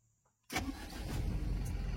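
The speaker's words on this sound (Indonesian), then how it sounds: "kita starter dulu untuk memperjelas hidupnya seperti apa dan running mesinnya seperti apa." A Mitsubishi Canter 4V21 diesel engine cranks after a near-silent pause, fires at once and settles into a loud, steady, close-up idle.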